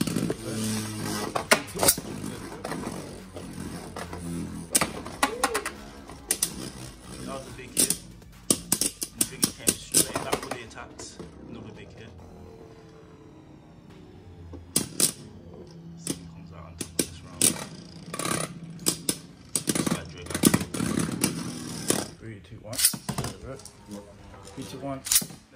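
Plastic Beyblade tops from the plastic generation, Driger Slash and Draciel Shield by Takara Tomy, spinning and clashing in a stadium: sharp repeated clacks and rattling hits with a whirring hum between, under a talking voice at times.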